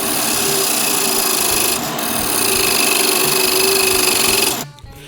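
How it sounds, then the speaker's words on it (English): A half-inch parting tool cuts into a wooden bud vase spinning on a lathe, making a loud, steady scraping whine that holds for several seconds and then cuts off abruptly near the end. "This is a 1/2 inch parting tool for the depth."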